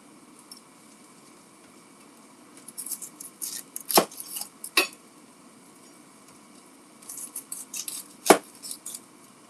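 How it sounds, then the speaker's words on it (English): A kitchen knife slices the ends off an onion in a few sharp, close cuts, clustered in two bursts separated by a quiet pause. "One of the easiest way to peel an onion, just cut both ends off first."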